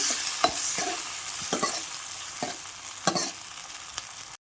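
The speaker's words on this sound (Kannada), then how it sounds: "ಆ ಟೊಮೆಟೊ ಹೋಳುಗಳನ್ನು ಇದಕ್ಕೆ ಸೇರಿಸ್ಕೊಳ್ಬೇಕು ಮತ್ತು ಇದನ್ನು ಸ್ವಲ್ಪ ಫ್ರೈ ಮಾಡಿಕೊಳ್ಬೇಕು" Tomato pieces fry in a pan for a hot saaru, a bright continuous sizzle layered with frequent clinking, scraping stirs of a ladle, close and alone, ending abruptly.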